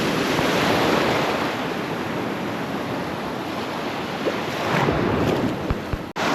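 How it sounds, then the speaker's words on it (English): Ocean surf washing onto a Padre Island National Seashore beach after a hurricane, a continuous loud roar of breaking waves with wind noise on the microphone, no talk. "the waves push in, they don't have any place to go"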